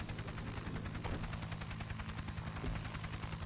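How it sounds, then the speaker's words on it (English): Helicopter arriving in a Zombie Driver HD cutscene to rescue a survivor, a faint steady rotor chop with a low hum throughout and no talk. "they're going to get a little cutscene where the chopper comes in and rescues the guy"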